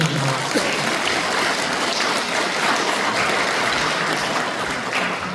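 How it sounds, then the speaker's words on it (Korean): Sustained applause from a congregation at a Won Buddhist temple service, steady and dense for the full length, loud and close with no talk over it. "감사의 박수 부탁드립니다."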